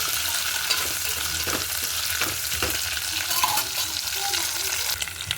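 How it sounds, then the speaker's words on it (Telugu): Dried fish frying in a pan for a tomato curry, a loud, steady crackling sizzle with occasional stirring scrapes, heard close up with no one talking. "ఫస్ట్ వీటిని వేయించుకుందాం."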